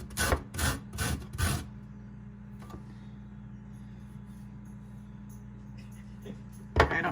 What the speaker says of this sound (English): So I pulled out our cheese grater and I'm gonna attempt, I think this side is like the zesting side.